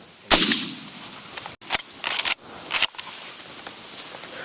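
A shotgun fires once during a spring turkey hunt in Kansas, a sharp loud blast followed by rustling and handling noises in the open field.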